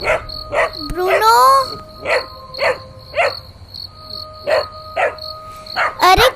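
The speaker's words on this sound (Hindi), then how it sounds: "अरे कबर्ड को देख के क्यों भौंक रहे हो?" A dog named Bruno barks repeatedly at a cupboard indoors, sharp yelps in a loose rhythm over a steady insect-like whine, with someone speaking briefly between barks.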